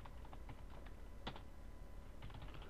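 Typing on a computer keyboard: quiet, irregular key clicks in short bursts, with a distinct louder tap midway, heard up close and alone.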